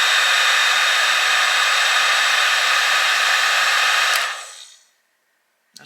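A DeWalt DCE530B 20V battery heat gun melts shrink tube with a loud, steady blowing roar for about four seconds, then winds down into silence, and a brief click follows at the end.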